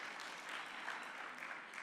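A round of applause from a meeting audience, faint and distant, with steady, even clapping all the way through and no voices over it.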